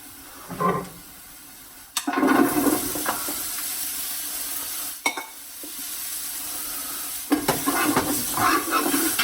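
Chopped onions and carrots sizzle in a pot of vegetable soup. A steady hiss swells sharply as the vegetables hit the hot fat, with scraping stir strokes and bursts of crackle over the ongoing sizzle.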